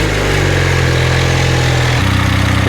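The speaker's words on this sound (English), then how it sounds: "Going to turn the idle up a little bit." A 1978 Honda CB400A Hondamatic motorcycle engine idles with a steady low, even hum that shifts slightly in pitch partway through, loud and close with no talking.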